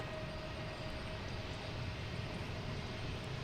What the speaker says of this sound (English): next to take off I should say, is JetBlue, Boston to Las Vegas, flight 977